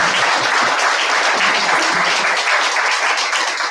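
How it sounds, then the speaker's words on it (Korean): A church congregation applauds to encourage a pioneer church leader. The clapping is loud, thick and continuous, a close wash of many hands with no pause. "우리 김철우 전도사 개척교회장님께 큰 격려의 박수를 다시 한번."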